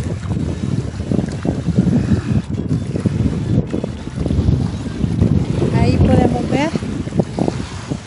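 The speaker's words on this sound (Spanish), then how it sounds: "ya se siente la brisa y ya se miran por ahí los tumbos un poquito más fuertes" Breeze blowing at the shore of Laguna El Espino in Ahuachapán, El Salvador, with steady wind rumble buffeting the microphone and soft water movement, while someone talks over it throughout.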